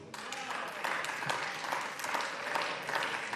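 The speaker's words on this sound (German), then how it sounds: "Schön, dass der Senator auch dabei klatscht." Applause breaks out in a state parliament session during a debate on amending a seniors' law, with dense clapping from many hands held at a steady level and voices faintly underneath.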